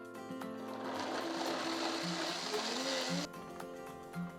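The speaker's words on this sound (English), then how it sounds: "Now we're gonna blend that." Blender running as steamed corn is blended into a vegan corn chowder, a steady loud whirring drone with shifting pitch that cuts out near the end.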